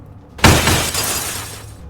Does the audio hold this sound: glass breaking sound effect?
yes